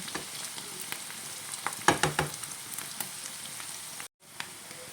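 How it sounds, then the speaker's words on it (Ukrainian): Onion and morel mushrooms fry in a pan with a steady crackling sizzle and a few louder spits, then a brief dropout before the hiss resumes. "і цибулька піджариться"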